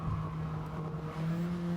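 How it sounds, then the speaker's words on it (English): Tyres squeal on a Gran Turismo 7 video game car as it is pushed through corners. A steady, high tonal screech rides over a continuous engine drone, shifts pitch partway through and stays moderately loud throughout. "Peeling them tyres, you can just hear them screaming."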